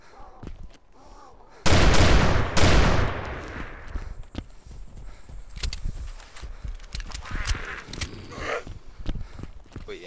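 Gunfire in the zombie survival game DayZ: a sudden loud burst of close shots with a second crack soon after, followed by scattered quieter shots and footsteps.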